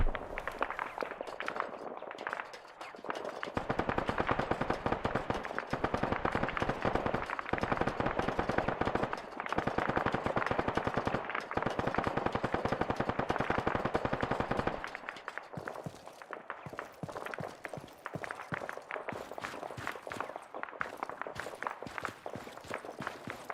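Sustained gunfire in the military shooter ArmA 3, with dense automatic bursts from several weapons pinning a player in a watchtower, loud and continuous for long stretches, then thinning into scattered sharper shots.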